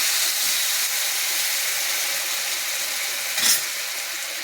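Garlic fries in a pan for a garlic pickle, a continuous bright hissing sizzle heard close up, with a brief stir or clink near the end.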